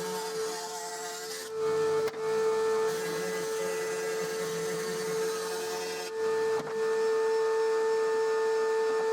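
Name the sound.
bandsaw cutting a scrap piece of plywood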